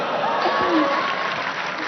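Audience applause at a large public gathering: dense, steady clapping from a crowd, loud and close, sustained throughout with a faint voice beneath.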